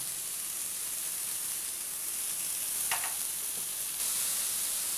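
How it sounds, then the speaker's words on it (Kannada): Chopped cabbage and beans frying in a pan for vegetable vermicelli upma give a steady, even sizzle throughout, with one brief scrape of a stirring spoon near the middle. "ಕ್ಯಾಬೇಜು ಇಷ್ಟು ಫ್ರೈ ಆದಮೇಲೆ ನಾವು ಕ್ಯಾಪ್ಸಿಕಮ್ ಹಾಕೋಣ"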